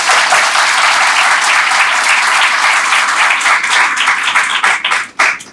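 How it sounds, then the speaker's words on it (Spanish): Sustained applause from an audience at a Dominican book launch, clapping for Camilo Matos de León: a dense, steady wash of many hands that thins into scattered claps near the end. "Vamos a darle un aplauso a Camilo, señores."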